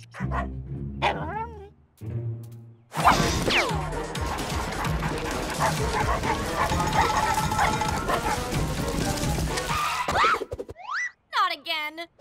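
Several dogs bark and yip loudly and continuously, layered over a busy chaotic background, with brief voices at the start and end.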